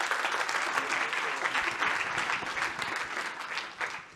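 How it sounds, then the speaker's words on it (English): A conference audience applauds a speaker from a hybrid rocket engine startup taking the stage, steady dense clapping filling the room close and loud for the whole stretch, tapering slightly near the end. "You can give him a round of applause"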